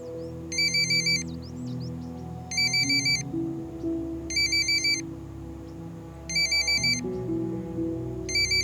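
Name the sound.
phone ringtone ringing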